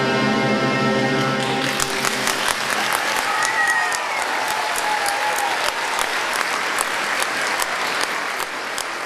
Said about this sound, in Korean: 공연이 끝나자 열렬한 박수가 그를 향해 쏟아졌다.